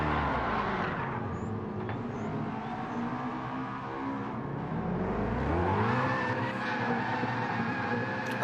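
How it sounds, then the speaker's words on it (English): Race car drifting in a sim racing game at Interlagos, engine droning and rising and falling in pitch with tyre squeal layered over it, loud and close throughout, with no talk. "He's trying to get his drift on."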